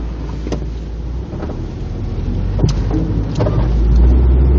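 A car drives past on the road, a steady motor hum that swells gradually and peaks near the end, with a few faint clicks and rattles along the way.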